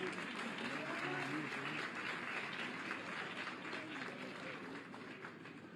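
Steady crowd applause at a political rally, a dense wash of clapping that holds at an even level throughout before easing slightly toward the end, with no clear voices on top.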